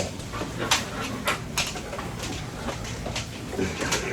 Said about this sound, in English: We do have dogs, and sometimes they like to let us know what's going on.